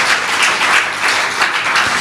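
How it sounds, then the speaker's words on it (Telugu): Congregation in a church service clapping together, a dense continuous wash of many hands, loud and steady throughout with slight swells, no voices over it. "చప్పట్లు కొట్టి దేవుని మహిమపరచుకున్నా."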